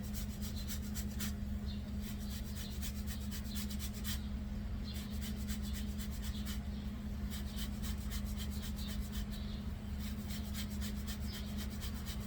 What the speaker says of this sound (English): So zest half an orange.